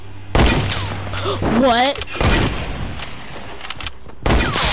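Loud bursts of Fortnite gunfire crack out in short rapid volleys, close and harsh, with a voice talking between and over the shots.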